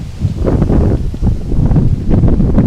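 Gusty wind on a cold, windy Saturday morning outdoors at Congressional Cemetery buffets the microphone in loud, low, uneven surges with no talk.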